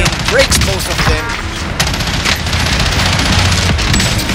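Rapid bursts from an FFR gun in a shooter video game, loud and dense with overlapping impact and explosion sounds, continuous over several seconds.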